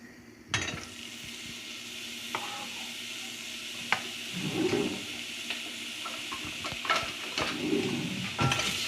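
Sliced onion fries in hot oil in a pan for a Goan snake gourd bhaji, with a soft steady sizzle, scattered utensil clicks and scrapes, and a few bursts of louder stirring.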